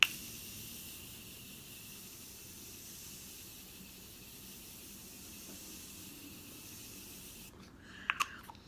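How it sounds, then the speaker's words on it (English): Morphe setting spray mists onto a face as a long, soft, steady hiss, close and quiet, ending with a couple of small clicks. "I'm going to go in with my Morphe setting spray because my face is already super dry right now"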